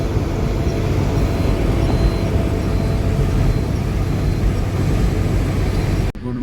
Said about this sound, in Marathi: टायराचा आवाज कसा येतोय.